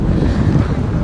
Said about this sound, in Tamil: இதுக்கு வந்தோன்னா நல்ல காற்றடிக்குது.